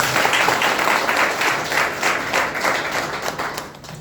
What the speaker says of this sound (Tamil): அவருக்கு ஒரு பாராட்டு கொடுத்துடலாமா?